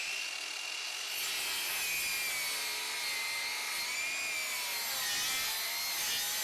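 A cordless circular saw, either a Ridgid Octane or a Makita 36V LXT, cuts through treated lumber with a continuous high, rasping whine that stays loud and close for several seconds without pause.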